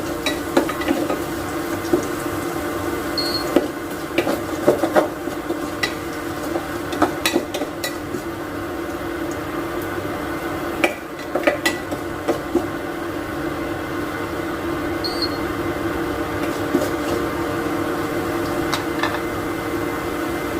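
Cumin seeds sizzle in hot oil for a paneer palak curry, a close, continuous frying hiss scattered with small pops and crackles that keeps going evenly, with no one speaking.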